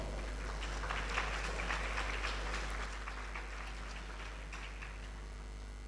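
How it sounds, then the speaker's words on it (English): Faint, steady applause from an audience at a Shaktipat Mahayoga workshop, welcoming the guru Narayankaka Dhekane; a soft, continuous patter of many hands with no voices, easing slightly toward the end. "applause."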